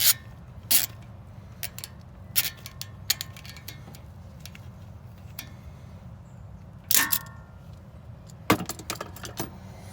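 Ratcheting and metallic clicks while a 10 millimeter fastener is loosened on a 2012 Honda Pilot, several short sharp bursts spaced irregularly over a quiet background.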